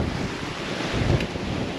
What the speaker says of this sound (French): on n'a plus que 19-20 nœuds de vent